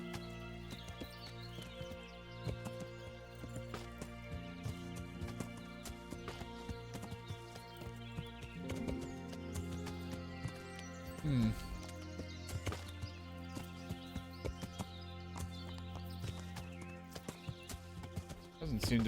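Horse hooves from Kingdom Come: Deliverance, a medieval game, with steady clip-clop steps mixed under game music and ambience, while a voice talks over it throughout.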